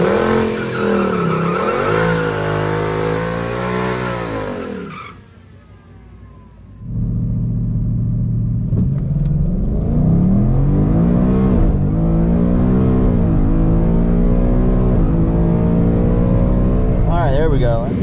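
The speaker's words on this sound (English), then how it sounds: "as soon as I let go of the trans brake, floor it, which doesn't exactly give you the best launch." A 2022 Mustang GT launches down a dragstrip off the trans brake. The engine is loud and close, revving in rising sweeps that dip briefly before roaring back and climbing again through the gears.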